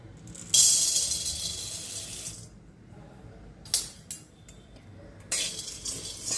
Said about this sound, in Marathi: आता ही डाळ आपण भाजून घेऊ